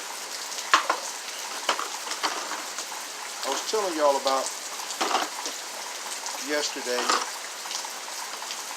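Steady rain falls outside as a soft, continuous hiss that runs through the whole stretch, with a person talking over it in the foreground.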